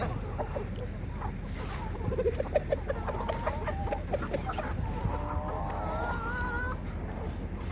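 Chickens cluck and a young rooster gives a short, thin crowing call over a busy, noisy farmyard background.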